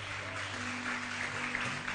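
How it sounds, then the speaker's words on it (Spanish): Church congregation at a Nazarene evangelism service applauds for about two seconds, a steady wash of clapping mixed with a sustained hum or held musical tones underneath. "Denle un aplauso al Señor bien fuerte."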